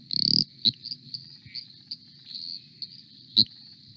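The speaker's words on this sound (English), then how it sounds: "eastern dwarf tree frog, which is one of our smallest tree frog species, and it sounds similar to a ratchet" Insect-like ratcheting trills from a small eastern dwarf tree frog, a steady high chorus with a few louder rasping bursts near the start and end, over a low background hum.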